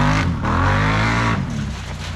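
A Can-Am Renegade 1000 ATV fitted with a Yoshimura exhaust revs loudly up close, its deep engine note rising, dipping briefly and climbing again, with no talking.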